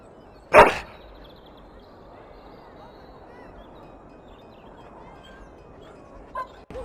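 A dog in the video game Dragon Age: Origins gives a single sharp, loud bark near the start, followed by quiet ambience and a faint brief sound at the end.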